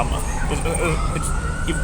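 An ambulance siren passing outside during a live football podcast, a steady wailing tone running under and mixed with talk throughout.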